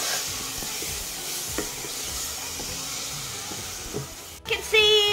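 Tomatoes sizzle steadily in a pan as they are stirred during the making of a vegan green gram (moong dal) soup, with a continuous frying hiss, occasional spoon scrapes and a brief louder clatter near the end.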